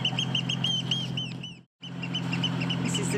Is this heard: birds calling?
yes